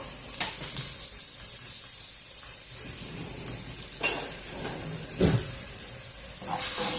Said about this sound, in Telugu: ఈ ఉల్లిపాయల్ని కొంచెం కలర్ వచ్చేంత వరకు వేగనిద్దాము